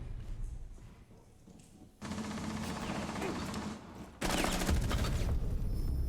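Video game gunfire in Rainbow Six: dense bursts of rapid gunfire crackle continuously, growing louder partway through, with a thicker, heavier volley near the end.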